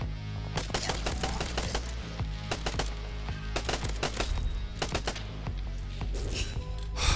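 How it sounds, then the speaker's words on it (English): Rapid bursts of assault rifle fire in a first-person shooter roguelite game, sharp cracking shots in uneven rhythmic strings over a steady low music bed, loud and close with no talking. "I like this assault rifle"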